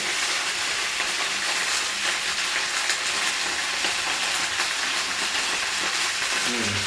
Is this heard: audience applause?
no